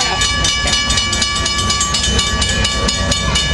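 An Amtrak train led by locomotive 460 with cab car NPCU 9208 on the end rolls past close by, a loud, continuous rumble and rattle of wheels and cars with no break.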